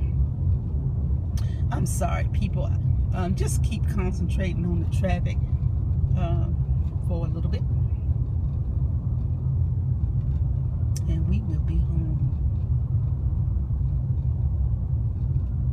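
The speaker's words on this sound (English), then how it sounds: "Just keep concentrating on the traffic." Steady low road rumble of city traffic heard from inside a car driving in Atlanta around 5 pm, a constant engine and tire drone under close talking throughout.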